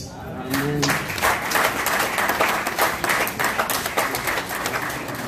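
A church congregation applauds and cheers for the pastor: dense, sustained clapping with crowd voices starts abruptly and stays loud and steady throughout.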